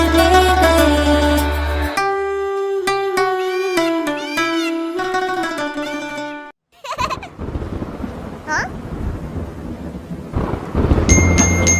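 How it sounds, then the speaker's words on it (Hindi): A cartoon nursery rhyme setting: a bright, tonal music jingle gives way to a sudden loud rumble of thunder and a steady hiss of rain that carries on to the end, with no talking. "बारिश आई छम छम छम"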